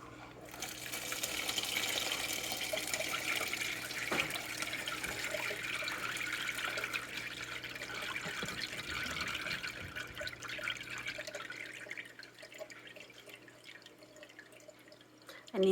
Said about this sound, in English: we are going to strain them in the colander